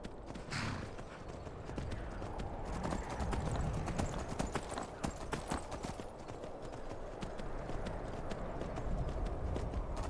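Steady clip-clop of a horse's hooves while riding through Skyrim, a continuous rhythmic trot close up over ambient game sound, with a brief whinny near the start.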